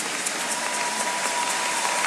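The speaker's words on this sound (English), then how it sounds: "with a clapping ovation." A large congregation at the RCCG annual convention gives a clapping ovation. Dense, even applause fills the hall at a steady level for about two seconds, with no speech over it.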